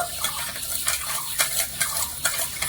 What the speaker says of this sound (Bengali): এবারে নেড়ে ছেড়ে ভালো করে গলিয়ে নেব